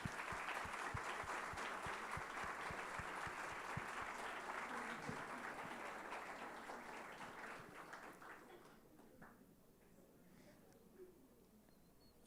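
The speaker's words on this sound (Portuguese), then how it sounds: "uma salva de palmas, pessoal." A school event held in a municipal chamber breaks into applause as a student presents a thank-you, many hands clapping steadily for several seconds before the sound tapers off and fades to a quiet room, all at fairly low level.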